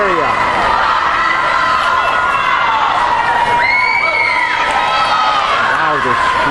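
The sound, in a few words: crowd screaming and yelling at high school swim meet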